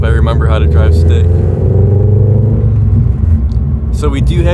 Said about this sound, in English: So we do have the Greddy Evolution GT exhaust.